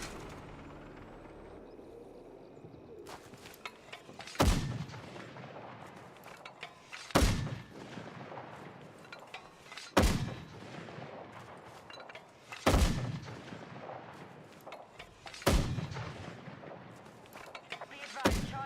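Mortar shells in a video game firing and exploding, six heavy booming blasts spaced about every three seconds over a rumbling battle background, loud and close.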